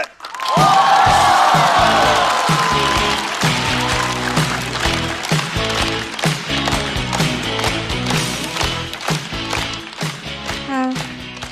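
A stand-up comedy show audience applauds and cheers to welcome a comedian onstage, a loud, sustained burst of clapping and shouts that swells at the start and then continues mixed with other sound.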